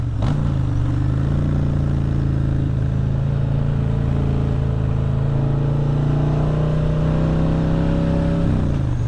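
Engine of a 2020 Harley-Davidson Fatboy riding at about 40 miles an hour, a loud steady low drone with a sustained hum that shifts pitch slightly toward the end, wind noise underneath.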